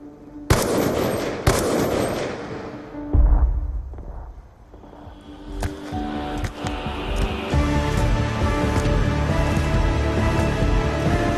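Gunfire in the video game Call of Duty Black Ops II: two sharp, loud shots open the clip, followed by a heavy blast, then sustained rapid automatic fire and scattered bursts over a dense battle din.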